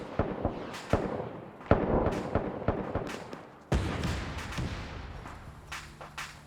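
Artillery and gunfire in a World War II video game: a series of sharp, loud blasts and cracks at irregular intervals, some booming and echoing, with a faint mechanical hum near the end and no talk.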